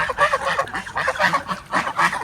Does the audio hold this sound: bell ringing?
no